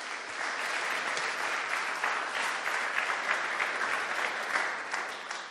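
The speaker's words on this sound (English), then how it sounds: "let's have a big round of applause" An audience breaks into sustained, steady applause at an evening talk, a dense wash of many hands clapping continuously at close range with no voices over it.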